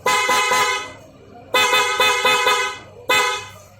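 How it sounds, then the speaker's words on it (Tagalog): A Yamaha R3 motorcycle horn sounds in three bursts of short, rapid beeps, the first group longer and the last a single quick toot, loud and close with no talking. "So, try natin busina."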